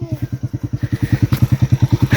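A scooter engine idles close by with a steady, rapid, low, thumping putter of even pulses, loud and alone, with a faint rattle riding over it.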